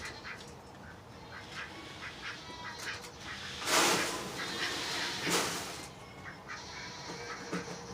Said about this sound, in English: Who doesn't have ducks in a farm?